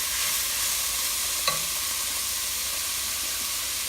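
Cambodian Somlor Machu Krerng being stirred in a pot, an even hissing simmer with soft continuous stirring and one brief clink of a utensil near the middle.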